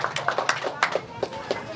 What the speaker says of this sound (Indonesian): Tepuk tangan dulu untuk Pak Haris dulu.